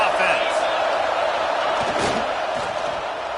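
Stadium crowd in a Madden football game on PS5, a loud continuous roar of many voices with some swelling cheers, constant throughout.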